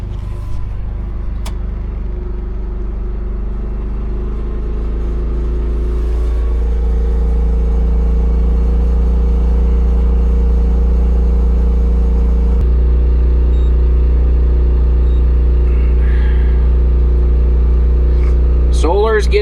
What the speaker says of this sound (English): Let's kick on the AC or the generator and see if it revs up and runs good.